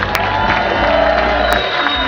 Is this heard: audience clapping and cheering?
yes